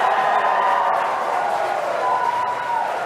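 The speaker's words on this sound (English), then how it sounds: "And you can hear some really loud cheering in the room." A room full of people at Hawthorne roars with loud, sustained cheering and shouting, a dense crowd wash that runs unbroken for the full few seconds.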